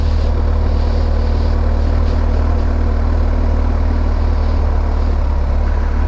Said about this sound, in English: What a lovely, lovely motorcycle.